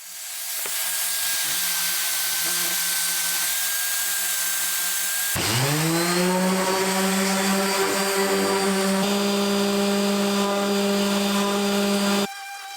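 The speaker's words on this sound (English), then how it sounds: "These little desktop drum sanders are actually pretty cheap and useful." Small desktop drum sander runs with a steady high whine, then the pitch jumps as it speeds up or takes load, holding a loud constant motor tone until it drops at the end.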